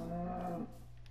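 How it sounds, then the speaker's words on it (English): A single low cow moo from the video game Minecraft, loud and close, lasting about half a second before fading into quiet background. "That's a cow, Dante."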